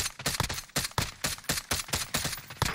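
Rapid automatic gunfire in Call of Duty: Warzone, a steady stream of close, loud shots in quick bursts with barely any pause across the whole stretch.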